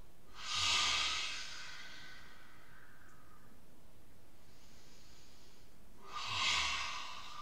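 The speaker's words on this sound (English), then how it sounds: "do the dragon's breath from here" Forceful dragon's breath exhalations during a yoga breathing exercise: two loud, hissing breath bursts, the first about a second long and the second near the end, separated by several seconds of near quiet.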